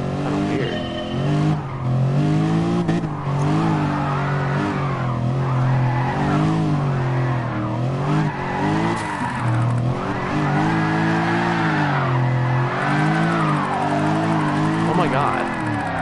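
A car in Gran Turismo Sport spins through a 360 with steady engine drone and sweeping tire squeal rising and falling across the turn, loud and continuous throughout.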